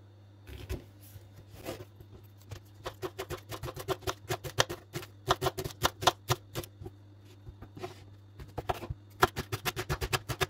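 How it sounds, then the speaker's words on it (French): Leeks are chopped with a knife on a cutting board in a home kitchen, producing quick sharp chops in uneven bursts, close and crisp against a low steady hum. "là, je vais couper mes poireaux"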